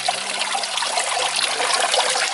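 Salted water for soy sauce slowly trickling through a strainer, a steady close-up dribble and splash that runs unbroken without any talk.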